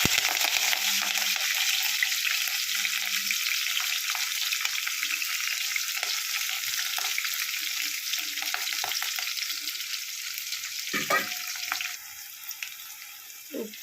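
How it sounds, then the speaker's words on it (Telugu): Sliced onions and green chillies hit hot tempering oil in a pan, a loud, steady broadband sizzle that runs continuously from start to finish, with occasional stirring scrapes breaking through near the end. "ఆనియన్స్ అని మిర్చి వేస్తున్నాను"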